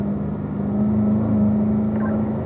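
A race car engine drones loud and steady from inside the cockpit on a track, with a strong low hum that holds almost level through the moment of the upshift into fourth gear.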